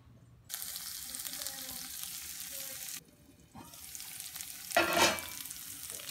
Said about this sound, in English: So I'm gonna just put the ferns in and then we'll give that a light sprinkle of garlic and we'll get those cooking.